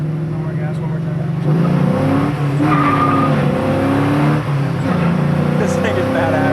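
An LS-swapped 1968 Chevy Camaro restomod with a small block engine revving, a loud, deep, rumbling engine note rising and falling in pitch close by, with people talking over it.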